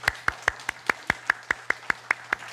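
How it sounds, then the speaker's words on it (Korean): Congregation applauding in a church worship service, a steady series of about a dozen evenly spaced claps, fairly close and clear, with no talk. "우리 뜨거운 격려의 박수 하겠습니다"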